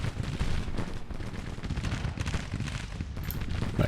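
Volleys of musket fire from Civil War infantry units in Grand Tactician: The Civil War, with dense overlapping crackle and distant booms forming a continuous battlefield rumble throughout.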